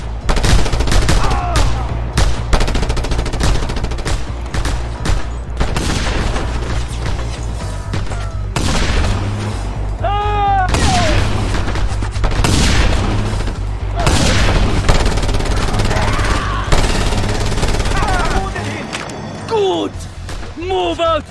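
Video game gunfire from Just Cause 2 while dealing with snipers: repeated loud shots and bursts over a steady music and effects bed, with voices talking throughout.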